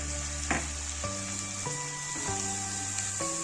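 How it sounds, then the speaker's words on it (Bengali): Poppy seed paste and spices for a Bengali rui posto fish curry fry in a pan with a little water, giving a steady close sizzle and a few stirring scrapes, while a low background hum steps between pitches. "এবার সব মশলাগুলো একসঙ্গে ভালোভাবে কষিয়ে নেব।"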